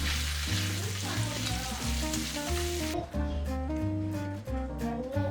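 Asparagus and bacon with garlic frying in a pan, a steady sizzle running under background music. The hiss thins out about halfway through.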